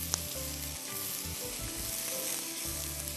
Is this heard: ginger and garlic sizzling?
yes